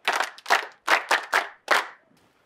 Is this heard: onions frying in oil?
no